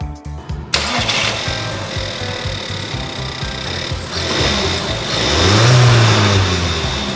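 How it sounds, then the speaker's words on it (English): A car engine jump-started from a DIY portable power station cranks with rapid rhythmic turnover, then catches and settles into a loud, steady idle that swells slightly as it revs, close by with no talking. "This outdoor power supply can also jumpstart cars."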